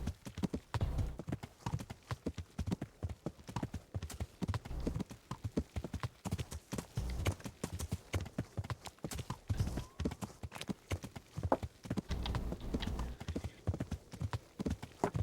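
Horse hooves clip-clop steadily in the medieval game Kingdom Come: Deliverance, a continuous close rhythm of hoofbeats running the whole stretch, with a faint whinny now and then.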